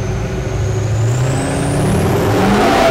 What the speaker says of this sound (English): These tires are freaking huge. And it just spun them out and I was moving.